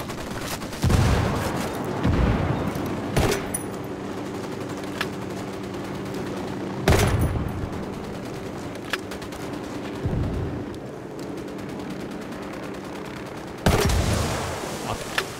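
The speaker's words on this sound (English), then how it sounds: "Shots fired." Bursts of rifle fire and several sharp blasts in the shooter game Ghost Recon: Wildlands, scattered volleys over roughly fifteen seconds against a quieter background hum.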